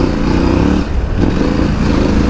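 A KTM 890 Adventure R or Honda CRF 300 L motorcycle rides on a dirt track, its engine a loud, steady, close-up rumble with a slight dip in revs midway.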